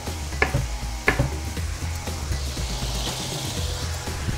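Octopus pieces stir-fry in a hot wok with a steady loud sizzle, punctuated by a few sharp clanks and scrapes of tossing near the start.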